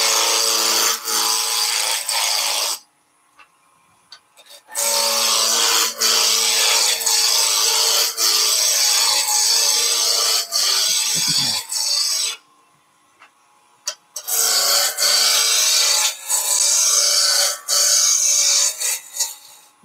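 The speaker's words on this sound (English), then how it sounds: "We're rough down with a roughing gouge." A roughing gouge cuts wood spinning on a lathe, a steady loud rasping scrape in long bursts broken by short pauses, close up with no talking.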